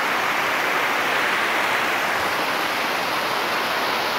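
A river rushes over stones in a continuous, close, broadband wash of flowing water, steady throughout with no voices.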